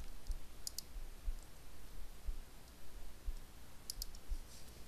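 Computer mouse clicks while working in InDesign, sparse double clicks at a few points, quiet and close over a faint steady background hum, no talking.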